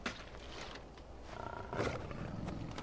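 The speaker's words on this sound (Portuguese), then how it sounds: "Leão das cavernas." A cave lion in the video game Far Cry Primal gives low, rumbling roars at moderate distance, swelling midway, with no speech.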